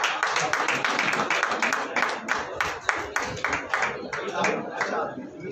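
Audience clapping at a Teacher's Day award ceremony of the Punjab education department, steady close applause of many hands with brief rhythmic bursts, a voice faintly audible underneath.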